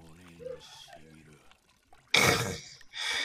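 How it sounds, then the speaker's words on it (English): Water splashing in an episode of the One Piece anime, a sudden loud burst of splashing after a stretch of voices, then a shorter second splash at the end. "Splash myself in water."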